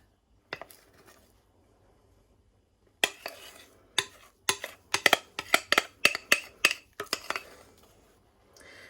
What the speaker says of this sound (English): Use a spatula if you've got one to scrape the bowl out. I prefer to get it out with a spoon.